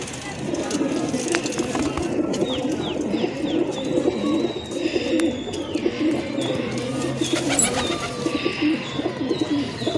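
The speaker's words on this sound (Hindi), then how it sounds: "ये पूरा पिंजरा है कबूतरों का, इसमें कबूतर है।" Steady pigeon cooing from several caged birds close by, layered with soft rustling and flutters, continuous throughout with no pauses.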